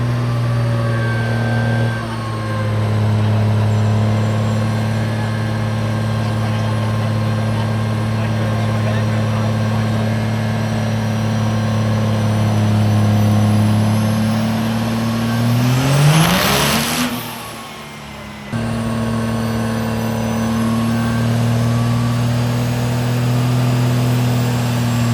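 A nitrous drag car engine at a King of the Street 2023 dyno session drones loudly and steadily, then surges through a sharp rising rev near the end before settling back.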